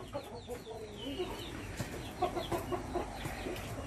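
Free-range chickens roam loose in an Indonesian yard, clucking in short repeated calls near and far, with a denser cluster of clucks toward the end and faint background noise beneath.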